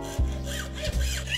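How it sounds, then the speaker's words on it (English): A hacksaw cuts through a piece of micarta in a workshop, giving two quick, close, harsh rasping strokes. "Just gonna take a piece of micarta, cut that with a hacksaw."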